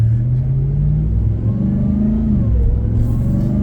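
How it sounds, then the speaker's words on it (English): A Ram TRX truck engine revs up close, its low droning pitch climbing and dipping, with a Mopar supercharger whine riding on top. "Hear that supercharger?"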